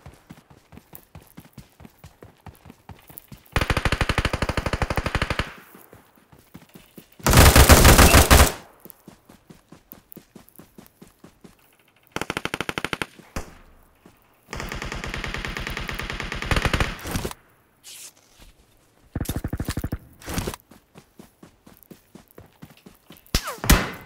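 Gunfire in the mobile battle royale game PUBG Mobile comes as loud bursts of automatic fire and single shots, broken by short gaps and separated by quieter faint thumps and footstep-like ticks.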